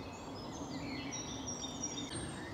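A wren sings along a path off Gladstone Road in Laindon, its thin, high warbling phrases carrying steadily over a constant outdoor hum, with no voices during the song.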